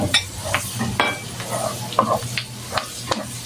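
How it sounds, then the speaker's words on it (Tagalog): Chopped onions sautéing in a pan for a creamy carbonara sauce, with a low steady sizzle under several sharp scrapes and clinks of a spoon stirring against the pan. "ilagay natin ang ating sibuyas"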